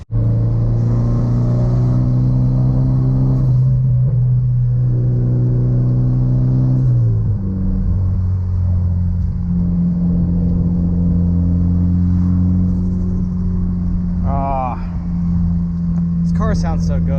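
A car engine in what may be a Porsche 944 or Mazda RX-7 holds a loud, steady drone, then drops in pitch partway through and runs on in a lower hum, with brief chirps near the end.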